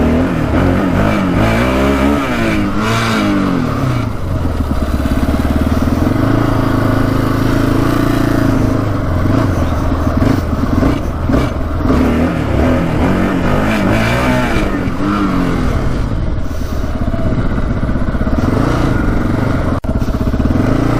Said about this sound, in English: take her for a little rip on the road here.